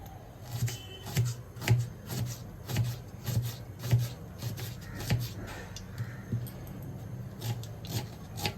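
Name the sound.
chopping onion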